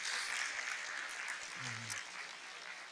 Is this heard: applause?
yes